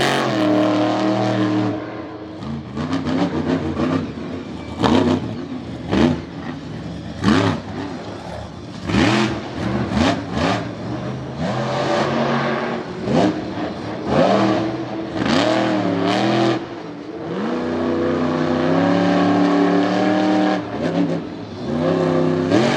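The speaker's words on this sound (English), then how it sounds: "So Corey should lay down a pretty good run here in Toxic" The monster truck Toxic roars through a run at Lake Erie Speedway, its engine revving hard in repeated rising and falling surges, loud and close, with bursts of acceleration and brief drops in pitch throughout.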